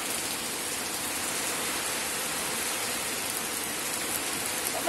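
Steady rain pours down over a village, a dense, even hiss of drops on surfaces that holds at a constant level throughout, with a small bump of noise right at the end.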